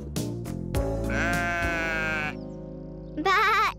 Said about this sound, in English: Baaing sheep.